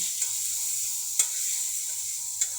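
Onion and garlic fry together in a pan with a steady, even sizzle, broken by a few brief sharp scrapes of stirring, heard alone without voices.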